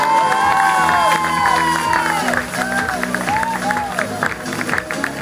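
A crowd claps and cheers at a handisport triathlon relay podium ceremony in La Baule, steady applause filling the whole stretch beneath bright, wavering tonal sounds like music or horns.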